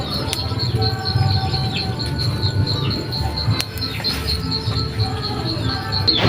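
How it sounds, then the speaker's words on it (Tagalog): Crickets and other insects trill steadily in a continuous high chorus outdoors at night, with occasional bird chirps and animal calls scattered over a low background rumble. "pakinggan nyo na nga muna itong huni ng mga ibon at iba pang mga hayop."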